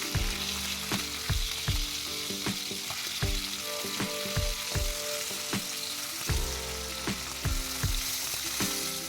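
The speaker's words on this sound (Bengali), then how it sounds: "মাছগুলোর একটা পিঠ ভাজা হয়ে গেছে এবার উল্টো পিঠটাও ভেজে নিচ্ছি" Bata fish fry on their second side in mustard oil in a pan, a steady close sizzle punctuated by regular spitting pops and crackles, with no talking.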